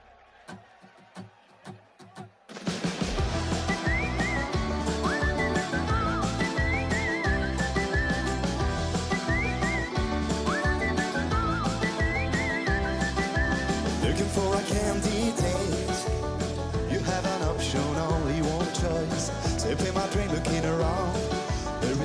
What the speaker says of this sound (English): This song, I should warn you, features whistling.